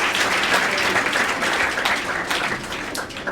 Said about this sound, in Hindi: जोरदार तालियां पुनः